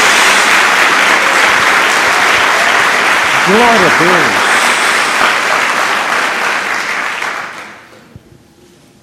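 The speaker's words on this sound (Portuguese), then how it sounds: "Dê uma salva de palmas a Jesus." A church congregation applauds for Jesus, loud dense clapping mixed with cheers and a spoken exclamation, sustained for most of the moment before fading out near the end.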